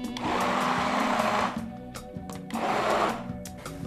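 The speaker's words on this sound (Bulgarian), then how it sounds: "Докато пасатор е в ръцете ми, ще пасирам и доматите за соса." A hand blender purees tomatoes for a sauce, whirring loudly in two long bursts separated by a short quieter pause, with clicks between.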